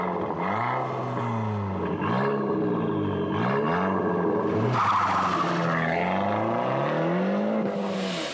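An Abarth Fiat 500 drives hard with its exhaust flap open, giving a loud, rasping engine note that repeatedly rises and falls through gear changes. Heard from inside the car, with occasional tire noise.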